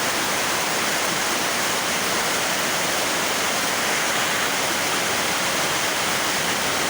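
Floodwater rushing around and into a house during heavy rain in rural Isan, Thailand, a loud, steady, dense wash of water noise throughout with no voices.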